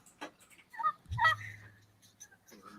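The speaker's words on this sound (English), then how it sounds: "it's just a crazy place with all the turkeys running around here" Thanksgiving turkeys in a crowded room gobbling: a short rattling gobble and a few brief clucking calls, moderately close, amid scattered room noise and no clear talk.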